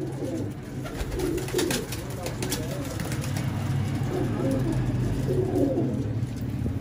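A Teddy Qasoori female pigeon of the golden kabootar type coos in low, repeated throaty calls, close by, over steady background noise.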